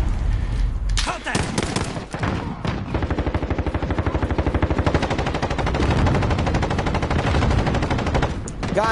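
Sustained bursts of rapid automatic gunfire from a video game firefight, loud and dense, with scattered single shots and brief gaps between the bursts.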